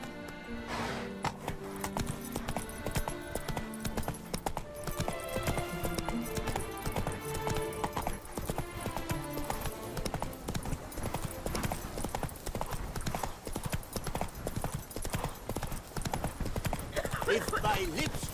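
Roach, the horse in The Witcher 3, gallops with fast, steady hoofbeats that continue without a break, mixed with dense game music and a voice.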